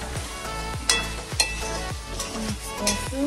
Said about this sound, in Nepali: मासु चाहिँ एकदम फ्राई भइसकेको छ